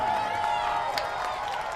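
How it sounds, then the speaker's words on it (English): Baseball crowd at Campbell's Field cheering for the Camden Riversharks, a steady distant murmur of fans with faint claps under a broadcast voice. "Fans making some noise here early on for the Riversharks, trying to cheer them on"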